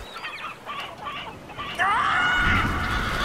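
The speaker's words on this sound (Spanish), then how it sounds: "Y nosotros vivimos en un mundo de gallinas." Chickens cluck in the video game Billy Hatcher and the Giant Egg, a few soft clucks and calls at first, then a louder, brighter squawking call swelling near the end over faint game background sound.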